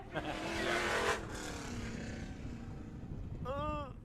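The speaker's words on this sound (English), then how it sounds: "Before he does some victory lane burnouts." A vintage sprint car roars loudly through victory lane burnouts at Tucson Speedway's Turkey Shoot, the engine note steady and sustained, with commentators talking over it and a brief rising whine near the end.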